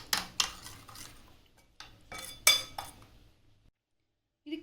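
A metal spoon stirs paneer tikka marinade in a bowl, giving a few bright clinks and scrapes in short bursts with quiet gaps, ending in silence before a faint new sound.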